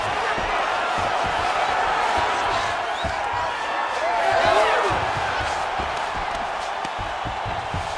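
Crowd roars and cheers in UFC 5 at a women's flyweight bout between Rose Namajunas and Jessica Andrade, a steady loud arena din swelling midway with whoops, scattered thuds and slaps underneath.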